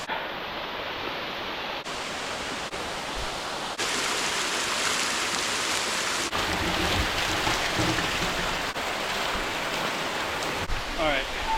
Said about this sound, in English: Maybe get one last shot of the waterfall